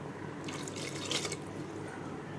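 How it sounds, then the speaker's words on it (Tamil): Water is poured into a pan of mushroom curry with ground masala, a brief soft splashing pour heard faintly over a low background hum. "இப்போ கொஞ்சம் தண்ணி சேர்த்து"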